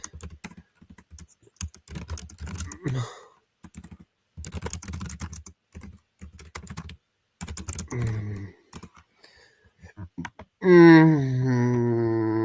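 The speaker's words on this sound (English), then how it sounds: "let me type it in." Typing on a computer keyboard in bursts of quick key clicks separated by pauses, close and moderately loud, with a brief tonal sound near the end.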